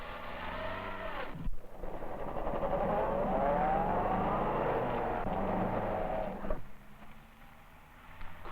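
A 1950s car on Weathermaster tyres drives past on a slippery road, its engine rising and falling in a loud, sustained pass before fading to a quieter idle.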